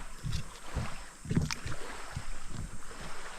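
A small dinghy-type boat out on the water during a fishing trip, with irregular splashes and knocking bumps of the hull and paddle close by, steady and fairly loud, with no talking.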